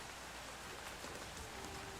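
Steady rain falls throughout in the MMO video game Apogea, a dense, even hiss of drops on surfaces with no voices over it.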